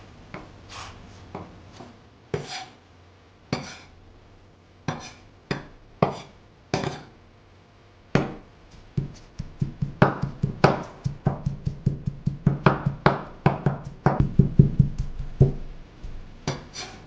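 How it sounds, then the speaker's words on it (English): Meat being cut into small pieces and minced finely with a knife on a board, sparse single chops at first, then a fast, close, steady run of rhythmic knocks. "Cut the meat into small pieces,"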